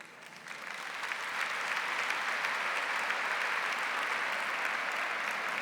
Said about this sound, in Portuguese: Pode aplaudir com mais força ainda esse anjo do Senhor